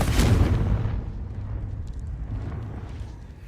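A booming fiery blast from the Confringo curse in Hogwarts Legacy, loud and close at the start, then a long rumbling tail that slowly fades over several seconds.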